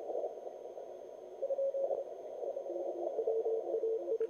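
Morse code CW signal received on the 40 meter band through an Elecraft K4 transceiver, a faint thin tone keyed in short dots and dashes above steady hiss and static, with a second weaker signal nearby.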